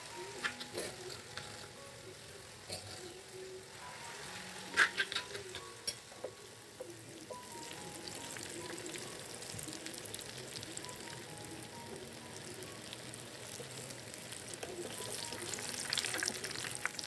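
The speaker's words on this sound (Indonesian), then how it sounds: "ini si tahunya udah matang nih teman-teman ya, udah penggorengan terakhir" Tofu patties (perkedel tahu) fry in a pan with a steady, busy sizzle and crackle. It runs unbroken through the whole stretch with occasional stirring clatter and no talk.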